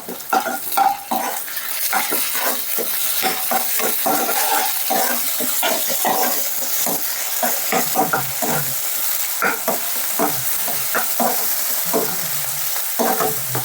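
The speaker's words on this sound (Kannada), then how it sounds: "ಈಗ ಜಿಂಜರ್ ಗಾರ್ಲಿಕ್ ಪೇಸ್ಟ್ ಹಾಕ್ತಾ ಇದ್ದೀನಿ." Ginger garlic paste fries with onions and chillies in hot oil for a chicken gojju, giving a loud, continuous sizzle close by, with repeated scraping and stirring strokes throughout.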